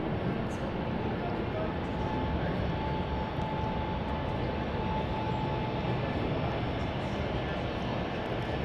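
DHL cargo plane at a busy international airport, its engines making a steady, broad roar that holds constant throughout at a moderate distance, with no clear talk over it.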